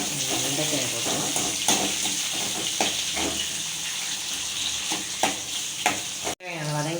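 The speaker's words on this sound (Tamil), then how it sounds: "வெங்காயம் வதங்கினோன்னு வெண்டைக்காயை போட்டுக்கலாம்." Onions frying with okra in a pan for a South Indian buttermilk curry, a steady close sizzle with occasional clatters of stirring, ending in a sudden cut to a brief different sound.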